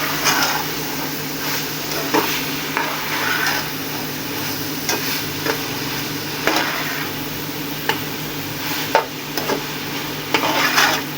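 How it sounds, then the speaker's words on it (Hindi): Raw onions and tomatoes stirred into cooking keema (minced meat) in a pot: a steady close sizzle runs throughout, broken by repeated scraping stir strokes over about eleven seconds. "अब इसके अंदर टमाटर प्याज जो कच्चे डालने हैं वो डालने लगी"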